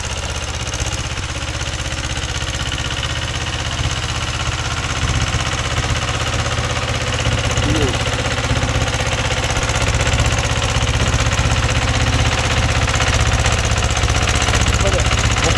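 A Mahindra 265 DI tractor runs steadily while driving a GAS 36-blade rotavator, its engine a loud, continuous low rumble with a rough, knocking grind sustained throughout, and faint voices underneath.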